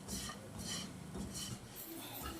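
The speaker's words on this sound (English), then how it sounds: "Just stir this until it becomes dry." Granola stirred in a pot over a gas stove, giving steady scraping and light clinking of utensil against metal, continuous and close with a dry rustle throughout.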